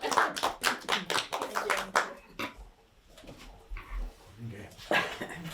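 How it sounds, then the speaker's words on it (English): Attendees at a school district board meeting clap, a burst of dense close applause that fades out after a couple of seconds, followed by quieter murmuring and a dog's whimpering and yips. "Can we clap?"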